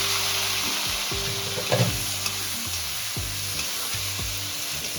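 Prawns frying lightly in hot oil, giving a steady close sizzle broken by a few spatula scrapes and stirs, with no one speaking.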